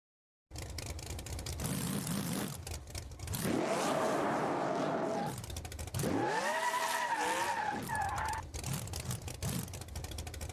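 Car tires spinning and skidding in the BeamNG Drive driving game, a tuned car launched with nitrous at about 85 mph, with loud sustained engine roar, rising revs and squealing tire slip filling the whole stretch.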